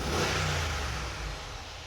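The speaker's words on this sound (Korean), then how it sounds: "배기음 한번 들어볼까요?" A 2016 Mercedes-AMG G63 G-Wagen with Mansory wheels revs its engine, a loud, steady exhaust roar that swells early and then eases slightly, heard close with no talking.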